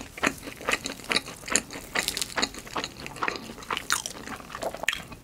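Crunchy mini doughnut pastry bitten and chewed up close, a rapid series of crisp crackling crunches repeating steadily for several seconds.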